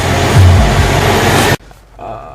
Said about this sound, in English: Maryland traffic for you.